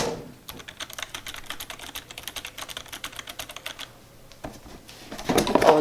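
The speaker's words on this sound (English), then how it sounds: "mechanical keyboard." Fast clicky typing on a wired Razer mechanical keyboard, close and crisp, in bursts of keystrokes with a short pause before a louder flurry at the end.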